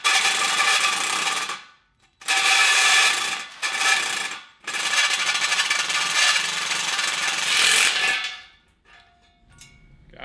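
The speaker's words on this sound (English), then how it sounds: "can go ahead and drill a hole for our fuel neck" Hole saw cutting through the metal of a cross kart (750cc) for a fuel filler neck, three loud grinding bursts with short pauses between them, the last running longest before it stops.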